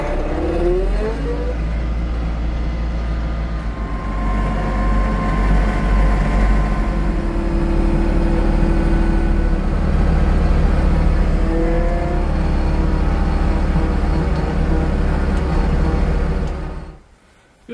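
A farm loader's engine runs steadily and loud while handling baleage, a continuous low mechanical drone with a brief shift in pitch, then cutting off near the end.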